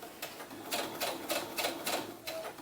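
Sewing machine back stitching a pleat on a doll romper: a series of quick, evenly spaced mechanical stitching bursts, fairly faint and close, with no voices.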